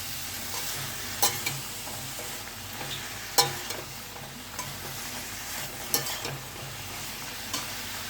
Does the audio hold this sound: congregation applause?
no